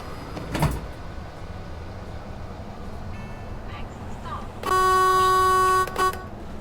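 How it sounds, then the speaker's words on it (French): A bus horn in the video game Bus Simulator 21 gives one loud, steady honk lasting over a second, followed by a short blip, over quiet game background noise. "Le klaxon des véhicules."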